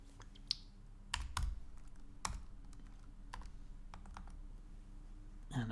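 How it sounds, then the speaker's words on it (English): Several sharp key presses on a computer keyboard as an angle is typed in, a few separated clicks over a quiet room hum. "So let's type in an angle."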